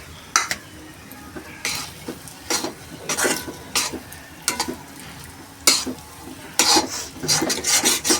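A spoon scrapes and stirs suji upma with tomato, carrot and capsicum in a kadhai, making repeated rasping strokes at an irregular rhythm over a soft, steady sizzle, close and clear.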